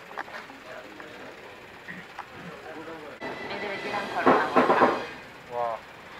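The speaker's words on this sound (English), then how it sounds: "Wow, this train is approaching speeds never seen before." A Soviet electric train rumbles and clatters along at moderate distance, with muffled voices speaking over the rolling noise.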